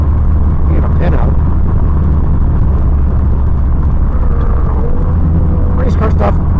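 A custom 1973 Ford Pinto's engine rumbles low and loud from inside the car, a steady drone running under continuous talk from people on board.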